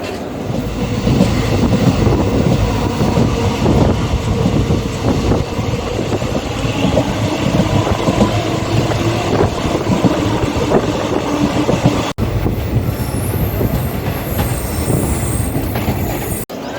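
Chennai Central–Mumbai CSMT Superfast Express at Rajampeta station, a loud continuous rumble of train cars rolling past with rhythmic wheel clatter and occasional squeal, sustained close by throughout.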